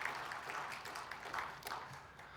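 A church congregation applauding after a choir's hymn at a New Year Sunday service, heard as soft, fairly distant clapping that stays even throughout with no talk over it.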